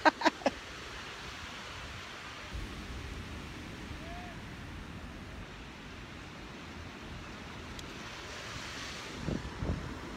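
Ocean waves wash steadily against the shore under gusty wind, a continuous broad surf roar with a few brief knocks near the start and a faint low murmur near the end.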